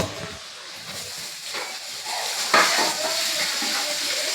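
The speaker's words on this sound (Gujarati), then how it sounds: "ભાત વગાડે છે મમ્મી જો" Rice being tempered in a pan with chili and salt, a soft steady hiss and sizzle with a few sharper spits and faint utensil clinks, fairly quiet and close.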